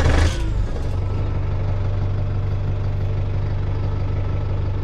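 A 2005 Kubota M95S tractor of about 95 horsepower with 4,100 hours runs at a steady idle, a loud, close, low engine drone after a brief louder burst at the start.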